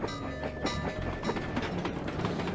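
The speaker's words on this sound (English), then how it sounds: "Also, that's a train." A train rolls past in the video game Sly 2: Band of Thieves, with a continuous heavy rumble and rhythmic clickety-clack of wheels on rails, loud and close throughout.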